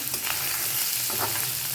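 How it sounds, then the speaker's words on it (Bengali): Paneer pieces sizzle in hot oil in a pan, a short burst of dense, steady frying hiss with soft spatters, close and uninterrupted. "পনিরটা ভেজে নেওয়া"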